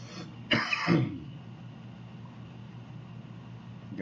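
One person clears their throat and coughs in two short, close bursts, then quiet room noise.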